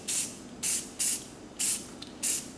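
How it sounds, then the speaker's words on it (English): White spray paint hissing from an aerosol can during spray paint art, in five short, sharp bursts of even length separated by brief pauses, close to the microphone with no talking. "Spray just a touch of white around the planet to really brighten it up"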